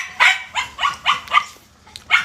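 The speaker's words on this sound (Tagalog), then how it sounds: "ang ingay ng aso namin" A dog barks in a quick series of about six loud, close yips and barks, with a short pause before the last one, in a home kitchen.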